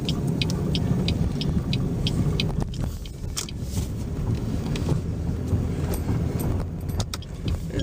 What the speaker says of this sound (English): Here comes the school bus.